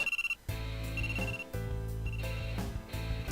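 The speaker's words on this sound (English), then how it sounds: "The alarm was from his phone after the 1 minute ended." A phone alarm rings in a visual novel game, a bright repeating electronic tone in short bursts over a steady low musical background, fairly quiet.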